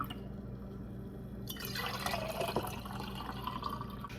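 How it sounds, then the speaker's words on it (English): Boiled ginger water is poured back into a container, a steady liquid stream and trickle over low background hum, getting brighter and splashier partway through. "And I'm also gonna fill this back up with what I boiled."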